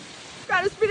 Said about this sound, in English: Gotta speed it up, girl. It's raining.